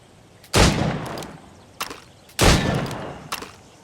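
Gunshots fired at stationary targets on a shooting range: two loud, close blasts about two seconds apart, each ringing out and decaying, with fainter shots or impacts between them.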